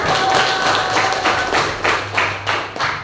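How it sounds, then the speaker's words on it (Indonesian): Students in a classroom clap for a group, a burst of brisk hand-clapping with rhythmic pulses that grows more distinct and patterned toward the end, moderately loud and close. "Tepuk tangan untuk kelompok 1"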